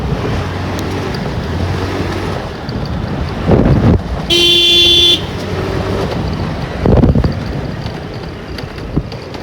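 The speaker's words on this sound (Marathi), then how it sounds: "आता मी गाडीची स्पीड कॅप्चर करतोय कितीच्या स्पीडने जातो आम्ही" A vehicle drives fast across an open ground, making a steady loud rush of engine and wind noise. A short horn toot sounds partway through, and no voices are heard.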